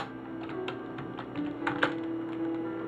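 Computer keyboard typing, an irregular run of close, crisp key clicks with small pauses between bursts, heard alone without talk.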